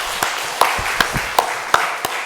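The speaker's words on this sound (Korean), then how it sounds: "하나님께 영광의 박수 돌려드리겠습니다" A church congregation claps together in unison, about six crisp, evenly spaced claps at a brisk steady beat, fairly loud in a reverberant hall with no talking.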